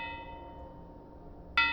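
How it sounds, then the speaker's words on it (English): Grave bells in a graveyard, heard as a decaying ring fading out and then a single sharp, bright bell strike near the end, with no talk. "The grave bells rang loudly behind me."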